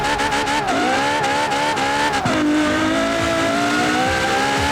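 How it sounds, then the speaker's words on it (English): A 2013 Ferrari LaFerrari hybrid with a V12 engine roars in Forza Horizon 4, loud and close, its pitch rising and dropping with the shifts while tires squeal over a continuous engine drone, with no voices. "it's a great V12, very powerful"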